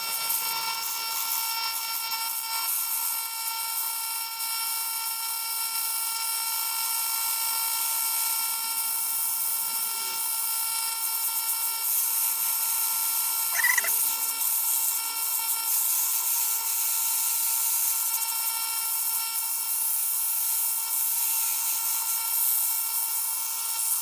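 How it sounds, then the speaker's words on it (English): Sandpaper held against a spinning segmented wood bowl on a lathe, a steady high whining hiss with a constant motor hum, a brief scrape partway through, no talk. "Let me see if I can sand it with this."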